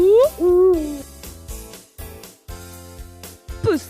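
An owl hoots in a few drawn-out, wavering calls near a mango tree, loud and close, with short gaps between the cries.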